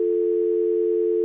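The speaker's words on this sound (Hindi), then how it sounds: "पहले डायल कॉल सुनाई देती है," A steady telephone dial tone, one unbroken, clear hum held evenly at constant loudness with no other sound.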